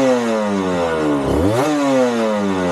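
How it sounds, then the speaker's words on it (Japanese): A 250cc two-stroke Suzuki RGV-Γ250 (VJ23) motorcycle exhaust revs up and down in quick blips, a loud, buzzy, crackling engine note heard close with no talking. "そしてこの排気音、"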